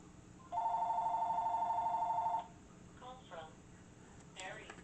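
Landline telephone rings once close by with a steady electronic trill lasting about two seconds, then stops; someone talks quietly afterward.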